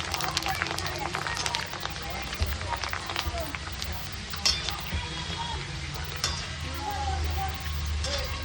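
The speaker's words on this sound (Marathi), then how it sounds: "असं एक एक करून सगळं तळून घ्यायचं आपण." Puris for pani puri deep-frying one by one in hot oil at home, a steady crackling sizzle with occasional bubbling pops, close and continuous, while a person talks.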